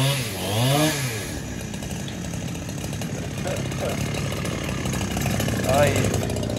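A chainsaw cuts through village bushes, its engine revving up and down at first then settling into a steady loud buzzing drone, close by, with someone talking over it.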